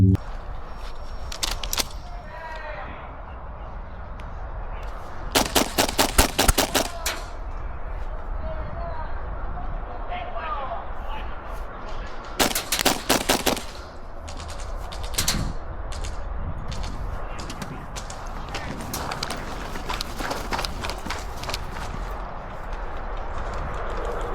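An airsoft gas blowback rifle firing outdoors in short rapid bursts of sharp mechanical clacks, three clusters spread across the stretch, with someone talking in between and quieter handling noises.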